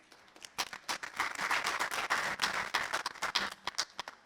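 Audience applause at a future-focused business summit, as guests welcome a speaker to the stage: a dense wash of many hands clapping, rising quickly and holding steady for several seconds, with no talk over it.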